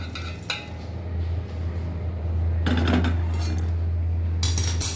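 Roasted dried shrimp are scooped from a hot pan into a pot, with metal spoon clinks and scraping in bursts over a steady low hum, loud and close.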